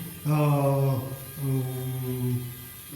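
A Eureka vacuum cleaner motor drones close by with a steady harmonic hum that shifts pitch partway through, with no talking.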